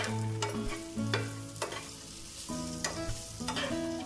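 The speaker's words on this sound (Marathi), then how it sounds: "मिडियम गॅसवरती मी सगळ्या भाज्या आता परतून घेते" Mixed vegetables for veg pulao, including peas and carrots, being stirred and sautéed in a pan over a medium gas flame. A steady sizzle runs throughout, with repeated scraping strokes of the spoon up close and no talking.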